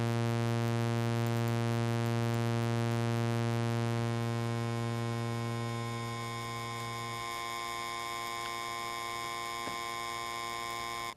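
A Haken Continuum playing a bass preset with the EaganMatrix recirculator fully on, heard as a steady sustained synth tone. A strong low fundamental and stacked bright harmonics hold for about eleven seconds, with a gently oscillating shimmer. The low end thins after about seven seconds before a clean cutoff.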